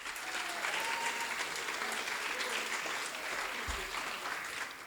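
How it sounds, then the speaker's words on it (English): Families in the audience at a school career center's academy awards show applaud themselves, a full, steady roar of many clapping hands with faint voices mixed underneath, sustained evenly throughout. "Please give yourself a round of applause."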